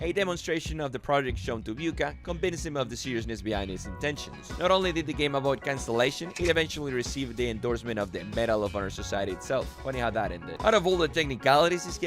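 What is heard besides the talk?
No everyday noise stands out behind the speech.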